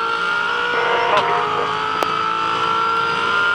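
V8 Supercars in a 2011 race in Tasmania, with a steady loud engine drone and a few brief higher-pitched surges as one car moves up on another, under a commentator's voice.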